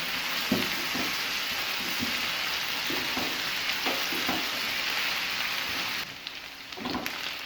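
Chicken cooking in a hot pan, giving a loud, steady, hissing sizzle throughout with occasional soft stirring knocks, the hiss dipping briefly near the end.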